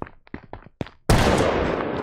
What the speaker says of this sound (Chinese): 这是开枪啊！